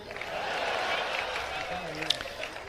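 A seated audience at a Hindi poetry recital claps in a dense, continuous patter that stays even throughout, with voices murmuring underneath.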